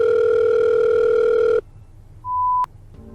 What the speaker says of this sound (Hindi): मीरा ने कुछ सोचते हुए अपना फोन उठाया और विवान को कॉल मिला दिया।